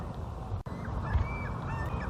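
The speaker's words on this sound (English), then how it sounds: "you hear the birds" Waterfowl on Lake Erie calling near a paddled boat in Cuyahoga County, Ohio, a few short honking calls over steady water and wind noise, with a brief dropout partway through.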